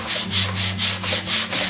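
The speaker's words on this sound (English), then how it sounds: "See how it's sanding through?" A pine wood cabinet being hand sanded gives seven rhythmic back-and-forth rubbing strokes, close and even in pace, with a low steady hum underneath and no talking.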